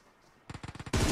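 A rapid automatic burst of about eight close gunshots in an esports battle royale match, ending in a loud, sustained blast of noise.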